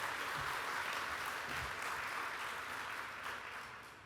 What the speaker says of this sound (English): Again, applause please for Tara.